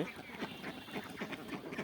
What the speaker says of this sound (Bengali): কয়েকটা সামনে হাঁস আসতেছে এগুলো আমার পুরান হাঁস